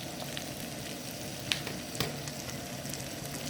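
Diced garlic sizzles with onion in a hot pan as vegetables are sautéed, a soft, steady crackle heard close up, broken by a couple of sharp clicks.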